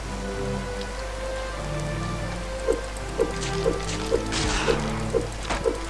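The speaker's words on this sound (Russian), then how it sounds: "О, дождь пошел." Rain begins falling in a swamp in the game Flare Empyrean Campaign, a steady hiss of raindrops over a low constant drone, with a few soft rhythmic thuds and tones repeating every half second or so.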